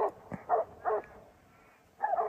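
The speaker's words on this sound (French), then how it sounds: "Il y a 4 énormes chiens qui foncent dessus." Several large dogs bark while charging, giving a few sharp, fairly near barks spaced apart with a quieter gap in between and a final burst, with no clear talking.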